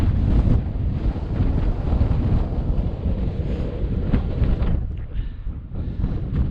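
Cold wind buffets the microphone steadily on an exposed winter mountain hike in the Applecross hills, a loud continuous roar with gusts throughout and no talking.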